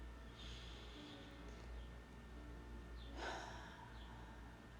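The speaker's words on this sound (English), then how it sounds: "I'm going to take my last big breath in" One deep breath drawn in through the nose during a quiet meditation makes a soft, airy rush that swells and fades within about a second, alone against near silence.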